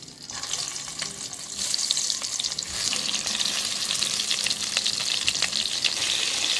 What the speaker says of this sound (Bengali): তেল গরম হয়ে গিয়েছে, এবার আমি একে একে পটলগুলো দিয়ে ভেজে নেব।